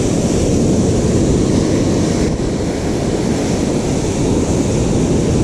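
Surf washing steadily onto Walcott beach in Norfolk, a loud, continuous broadband roar with wind buffeting the microphone and no clear individual wave breaks.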